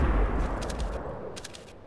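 A flashbang grenade goes off in Counter-Strike: Global Offensive: a loud, deep blast at the start that rolls off into a fading rumble over about two seconds, with faint high ringing tones above it.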